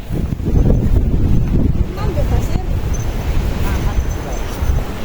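Strong wind buffeting the microphone on a mountain hiking trail, a loud continuous rushing roar with gusty surges, with voices talking underneath.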